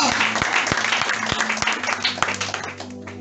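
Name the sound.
church congregation applauding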